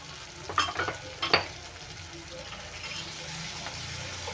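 A spoon stirs half a spoonful of turmeric into pithla, a gram flour curry, in a pan: a few quick, soft scrapes early on, then a quiet, steady low sizzle.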